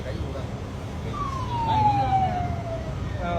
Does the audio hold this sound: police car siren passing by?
yes